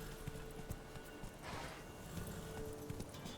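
Hooves of Roach, a horse in The Witcher 3, clop along at a steady run, with rapid rhythmic footfalls repeating under ambient game sound.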